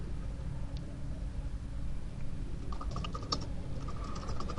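JavaScript code being entered on a computer keyboard, a run of light rapid key clicks over steady background rumble, getting a little busier toward the end.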